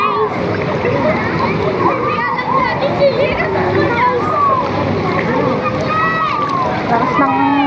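Water splashing and churning in a wave pool, a steady busy wash of surf with people and children talking and calling out throughout.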